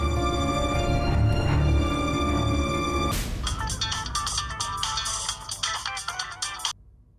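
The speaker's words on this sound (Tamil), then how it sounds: "ஜாக்கிக்கு ஃபோன் பண்ணுவோம்." A phone rings with a repeating electronic ringtone melody over a steady background hum, with the tone changing partway through before cutting off abruptly.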